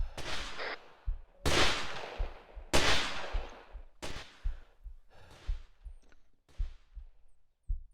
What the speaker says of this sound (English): Those are flares. It's this stupid firework again.